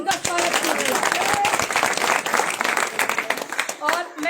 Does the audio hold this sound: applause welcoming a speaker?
yes